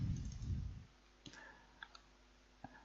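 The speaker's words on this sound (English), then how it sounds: "So I'm going to double click on this" A computer mouse gives faint, sharp clicks, a close pair near the middle followed by a single later click, in a quiet room after a short burst of low rumble.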